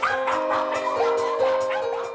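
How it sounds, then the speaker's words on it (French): Several dogs in a family kennel in a residential suburb yap and bark in quick overlapping bursts, close and loud, with whining, high-pitched yips mixed in. "Et forcément, 7 chiens, ça fait du bruit."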